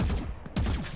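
Rapid bursts of gunfire from a Valorant esports match, a dense fusillade of shots crackling loudly at the start, pausing briefly, then resuming with another volley.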